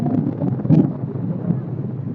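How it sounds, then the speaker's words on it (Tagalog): Low, steady rumble of strong wind buffeting the microphone on a mega dike in Malabon City, Philippines, with a brief louder gust midway and no clear talk. "Napalakas ang hangin dito"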